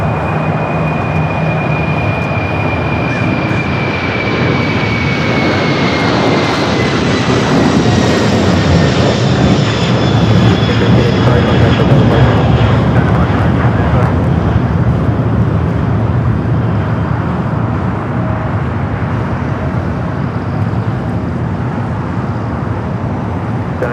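A Boeing 747 known as the Queen departs LAX for Honolulu, its loud jet roar rising and sustained with descending whistling engine tones, continuous and close with no voices.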